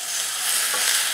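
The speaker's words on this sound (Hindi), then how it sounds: "अब इसे भी हम अच्छे से मिक्स करके 2 मिनट तक मीडियम फ्लेम पे भून लेंगे" Boiled potatoes with spices stirring and frying in a pan over a medium flame, a steady close sizzle with light scraping and no talk.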